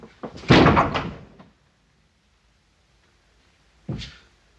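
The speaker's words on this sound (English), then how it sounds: "Quit banging on that door." Someone bangs on a door in a 1937 medical drama, heard as a loud cluster of heavy knocks lasting about a second, then silence, then one more thud.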